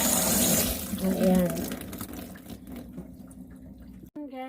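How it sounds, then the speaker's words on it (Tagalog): Tap water runs over strained Samyang ramyeon noodles in a kitchen, a loud steady splashing rush that thins out and stops near the end. "Tapos banlian ng konti para"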